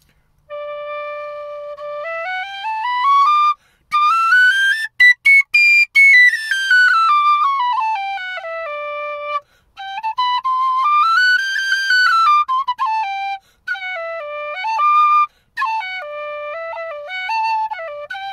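A handmade Pablo tin whistle in D, fitted with its original head, plays a melodic tune alone, with clear sustained notes, quick ornaments and short breath pauses between phrases.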